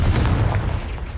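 A Confringo fire-blast spell in the video game Hogwarts Legacy erupts as a loud, booming burst with a crackling low rumble that fades over about a second, heard alone.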